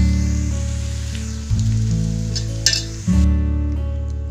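Beef pieces for Beef 65 fry in hot oil with a loud, continuous sizzle as they are stirred, with occasional scrapes and clinks of the spoon against the pan and no voices.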